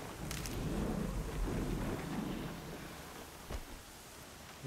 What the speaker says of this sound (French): Une tempête de sable, on dirait, là, qui se lève.